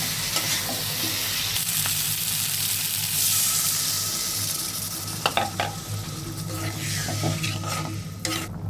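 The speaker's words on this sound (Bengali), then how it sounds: "এখন আলু দিয়ে আবার মশলা ভালো করে কষাবো" Potatoes and spices stirred and fried in oil for aloo dum, a steady loud sizzle with scraping strokes of a spoon against the pan, close up.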